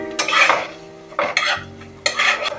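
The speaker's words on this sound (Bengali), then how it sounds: "ঘিয়ের মধ্যে ভালো করে পেঁপেটাকে ভাজা ভাজা করে নেব।" Papaya being stirred and fried in ghee, three close bursts of a spatula scraping and clattering against the pan over gentle frying sizzle, with no voices.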